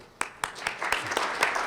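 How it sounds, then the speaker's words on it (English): A small audience gives a brief, sparse golf clap at a medical lecture, a handful of separate claps building into light scattered applause over a second or two. "so a little golf clap for them"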